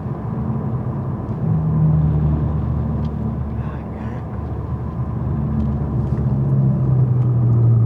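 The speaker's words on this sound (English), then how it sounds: "Oh, there's another car." A car passes on a road in the distance, a steady low rumble that swells and fades over several seconds with faint outdoor background noise.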